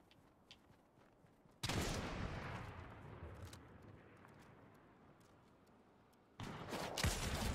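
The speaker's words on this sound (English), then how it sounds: "There's another one shooting at us from somewhere." Gunfire in the Fortnite battle royale game: sharp, loud volleys of shots break in abruptly and ring out into a decaying tail, then quieter distant pops, followed by another close burst near the end.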